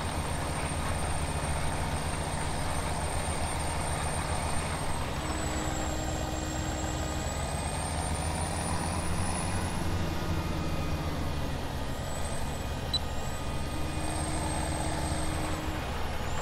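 A tractor's engine drones steadily in Farming Simulator 17 during fieldwork for wheat planting, a continuous low rumble with a faint high whine shifting in pitch above it and no talking.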